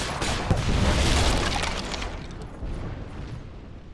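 Mortar explosions in a video game battle land as deep, heavy booms that merge into a rumbling roar, peaking early and slowly fading away with no voices over them.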